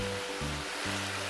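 Hot water pours into pork frying in a pan, giving a steady, loud broadband hiss and rush like surf that covers the whole short stretch, with a low hum underneath.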